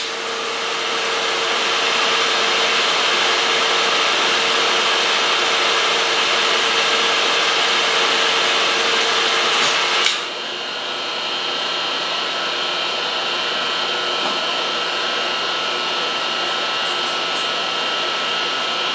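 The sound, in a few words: Machine cutting a metal part while building a boring bar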